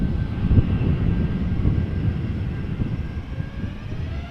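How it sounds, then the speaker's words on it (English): Icelandair Boeing 737 MAX 8 jet departing Amsterdam Schiphol, a steady broad engine roar with low rumble, fairly distant and continuous with no voices. "So, Icelandair flight 507, Boeing 737 MAX 8 going to Reykjavik."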